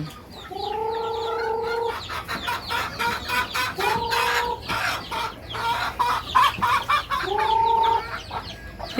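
Chickens cluck steadily throughout while a rooster crows three times, each crow long and clear, with a busy farmyard chatter underneath.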